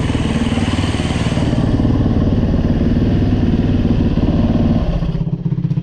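A Yamaha YZ450F dirt bike runs in the snow, its engine a loud, close, rapid four-stroke thrum that holds steady for about five seconds, then drops off and fades near the end.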